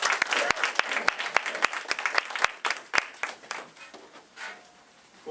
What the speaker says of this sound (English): Let's give a round of applause to our cast.